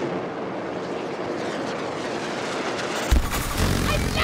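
Aircraft engine roar from the video game Battlefield 2042, a continuous broad rumble with a sharp low thump and heavier churning rotor noise in the last second.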